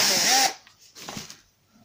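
A power screwdriver backing screws out of soft-close cabinet hinges in a basement fit-out, giving one loud whirring burst followed by quieter, shorter whirs.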